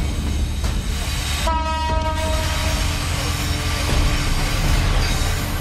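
A train rumbles past on the tracks, loud and steady, with a brief horn-like tone sounding partway through.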